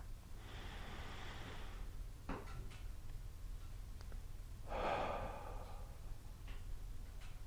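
Slow breathing from a person standing still during a qi gong session: two long, soft airy breaths several seconds apart over a low steady hum, faint and close, with no speech.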